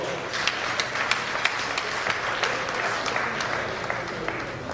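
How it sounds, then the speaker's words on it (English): An audience gives a round of applause for an honoured guest at an event, a steady patter of many hands clapping with a few sharper individual claps standing out, moderately distant. "Ladies and gentlemen, a round of applause for Dr."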